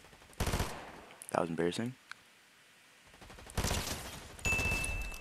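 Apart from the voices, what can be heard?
gunshots in a video game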